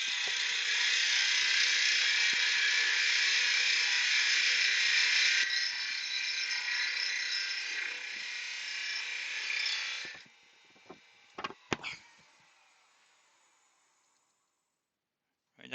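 Spindle gouge tapering a wooden workpiece on a lathe, giving a loud, steady high hiss of cutting for about ten seconds, then a few brief knocks and scrapes before it falls silent.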